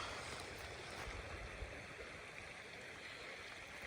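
A river stream flows in a steady, quiet rush of water, a continuous faint gurgle and hiss heard from nearby outdoors with no voices.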